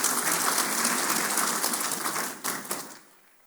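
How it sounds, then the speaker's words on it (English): A crowd claps in a dense burst of applause at Yakubu Gowon's 90th birthday celebration, thinning out and fading toward the end. "Let's give a round of applause for our celebrant one more time."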